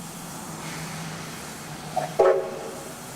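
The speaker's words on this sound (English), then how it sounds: "steam rail crews shunt the A2 around at the turntable" Steam locomotive A2 986 shunting around a turntable, a steady low rumble of rail movement with a brief whistle-like tone rising near the middle before settling back.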